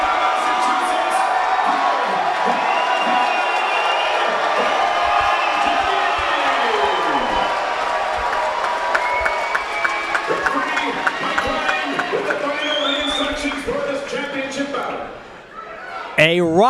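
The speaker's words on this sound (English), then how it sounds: "A raucous crowd on hand within this capacity crowd in Melrose, Massachusetts" A raucous capacity crowd at a boxing card in Melrose, Massachusetts, roars and shouts continuously before the main event, a dense, loud wall of cheering with a ring announcer's voice running over it.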